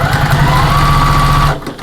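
A sewing machine runs a steady, close, loud hum while stitching up the sides of a fabric storage caddy, then stops abruptly near the end.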